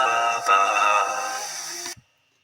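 A short vocal recording processed in Soundtrap with heavy auto-tune takes on a robotic, steppy sustained tone, fairly loud, then stops abruptly into silence.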